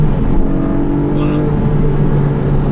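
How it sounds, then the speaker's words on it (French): A Porsche 718 Boxster GTS 4.0 flat-six engine holds a steady, loud, high-revving drone with a rich buzzing tone, close up and sustained throughout. "Et il a de la force, ce moteur. Et il aime les hauts régimes, regarde ça."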